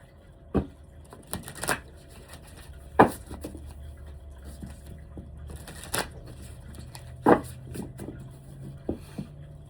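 Tarot cards are shuffled and pulled, with soft riffles and sharp slaps and snaps of card on card at irregular intervals, close and fairly quiet over a low steady background hum.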